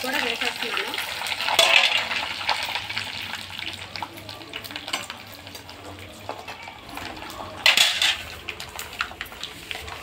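Dried red chillies hit hot oil while tempering for a tomato pickle, giving a steady crackling sizzle throughout with two sharper spitting bursts near the start and toward the end, close and fairly loud, with no talking.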